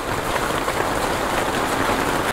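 Steady rain pours down on a motorcycle ride along an Indian highway toward Deoghar, a dense, even hiss that stays loud and unbroken throughout, with no voices.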